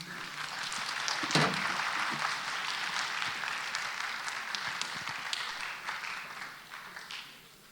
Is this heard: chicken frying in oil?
no